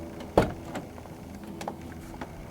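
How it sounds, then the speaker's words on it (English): Power door locks of a 1996 Hyundai Sonata unlock with one sharp, close clunk near the start, followed by faint softer clicks in a quiet car interior. "Unlock the doors."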